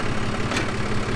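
Old tractor engine idling steadily up close with its power take-off clutch engaged to drive a hay baler, a continuous low rumble with a brief rise in the middle.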